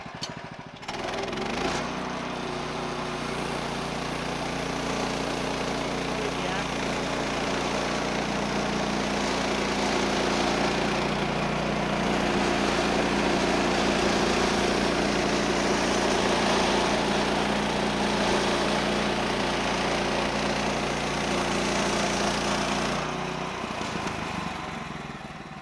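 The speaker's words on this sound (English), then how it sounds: "I'm going to make a thin veneer cut." An HM130 portable sawmill runs steadily while slicing a thin veneer cut, its engine holding a loud, constant drone with a whining blade note for about twenty seconds before it stops near the end.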